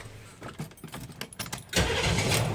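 Engine start on a military M1009 CUCV Chevy K5 Blazer with a 6.2 diesel: a few clicks and cranking bursts, then the engine catches and settles into a loud, steady rumble close by.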